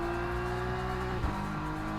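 Steady race car engine drone from the LMU (Le Mans Ultimate) racing game, heard as if from an onboard in-car microphone, holding a constant pitch with a brief bump near the middle.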